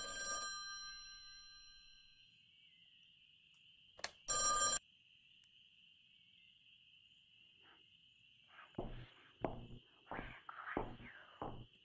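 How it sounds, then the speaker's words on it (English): A phone rings in a motel room in a VR game, its steady electronic tone sounding faintly and continuously throughout. A few brief clicks and louder knocks break in over it toward the end. "I guess I should answer the phone, right?"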